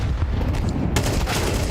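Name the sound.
pistol gunfire in Counter-Strike, video game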